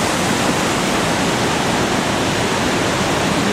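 Steady, dense rush of a waterfall, continuous broadband roar filling the whole moment with no other sounds.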